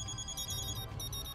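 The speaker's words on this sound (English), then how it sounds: "Why, even my phone is ringing." Mobile phone ringtone in Hyperdimension Neptunia Re;Birth2 chiming in a short, steady melodic pattern, fairly quiet and heard alone.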